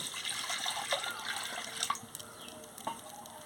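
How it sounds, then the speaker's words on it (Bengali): Water poured into a cooking kadai, a soft trickling and splashing stream that tapers into a few quieter drips. "কড়াতে আমি জল দিয়ে দিচ্ছি।"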